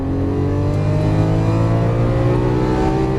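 A Lamborghini Aventador LP700-4 accelerates on a track, its engine giving a loud, close, sustained growl with strong layered tones that hold steady and climb slightly throughout.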